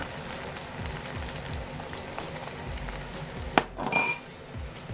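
Leftover beaten egg mixture fries in a pan for crispy smashed eggs, a steady close sizzle with a sharp utensil clink against the pan near the end.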